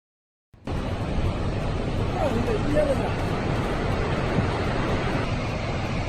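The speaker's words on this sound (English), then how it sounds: "Giant landslide crashes into water, throwing mist and waves into the air." After a moment of silence, a sudden, sustained roar of a landslide crashing into water rushes in, loud and broad, with wind buffeting the microphone.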